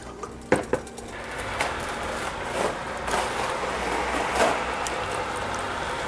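Chopped beef goes into a pot for chili, with a couple of sharp metallic knocks of utensil on pot followed by a rising, steady sizzle and scraping stir, close by and without talk.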